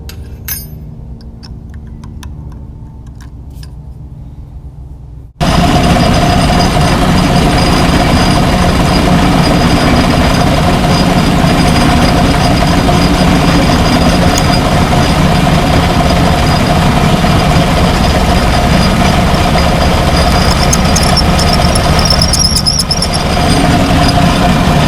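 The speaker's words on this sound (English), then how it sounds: "I'm going to use a larger drill bit and chamfer the top edge of this." Larger drill bit chamfering the top edge of a drilled socket: after a few seconds of quiet handling, a loud, steady drill runs continuously with a grinding, metallic whine and no pauses.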